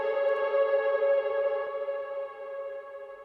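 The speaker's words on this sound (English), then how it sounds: "that tail, when I stopped it, that's the extra reverb you're hearing" A sustained harmonic synth or keys note from an electronic remix intro, drenched in added reverb stacked on existing reverb, rings alone and slowly decays into a long, smooth tail.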